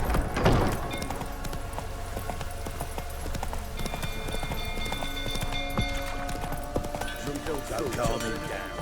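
Horse galloping in The Witcher 3: a steady, rapid clip-clop of hooves runs throughout at close range, with a voice talking over the hoofbeats.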